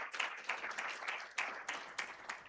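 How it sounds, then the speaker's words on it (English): Audience applause for a panel speaker at a health integration summit, a steady spread of clapping with several sharper swells, fairly close and filling the whole moment without voices. "So please, let's give him one last round of applause."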